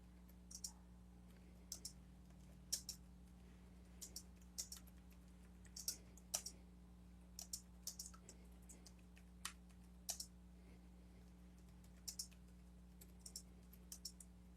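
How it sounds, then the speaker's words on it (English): Faint computer keyboard typing, scattered light key clicks in short irregular runs over a steady low electrical hum. "You see what I'm typing?"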